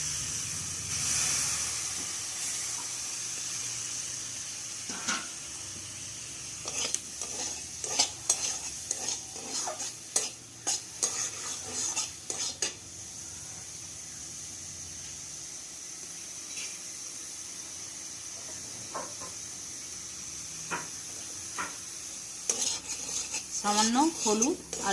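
Soya chunks fry in ghee with turmeric and salt, a soft background sizzle under intermittent clinks and scrapes of a spoon stirring against the pan, some bursts busier than others.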